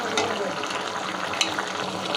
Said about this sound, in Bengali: আমার এটা অলরেডি টকবক টকবক করতেছে, হয়ে আসছে।